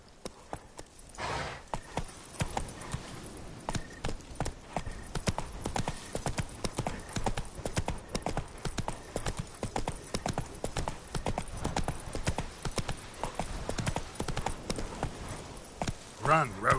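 Roach, a horse in the video game Witcher 3, galloping with a rapid, steady clip-clop of hooves that runs close and loud throughout, with a brief whinny, and a voice speaking over the hoofbeats.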